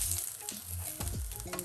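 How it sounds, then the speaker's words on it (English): Food sizzles and crackles steadily in a hot pan, a close, continuous hiss with occasional soft clinks. "Once you start to hear a bit of sizzling, you know that this is cooking right."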